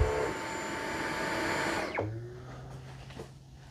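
A Dyson 360 Vis Nav robot vacuum runs with a steady broadband whir and motor hum, then its pitch drops abruptly about halfway as the suction changes, continuing as a lower drone.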